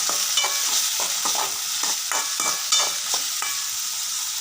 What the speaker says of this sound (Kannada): ಸೊ ಇವಾಗ ನಮ್ಮ ಟಮಾಟಿ ಚಂದಾಗ ಫ್ರೈ ಆಗ್ಯಾವ್ರಿ